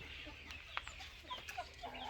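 Laying hens in a poultry pen cluck softly and sporadically, several short, faint calls scattered over quiet farmyard background noise.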